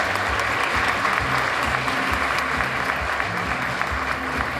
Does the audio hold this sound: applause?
yes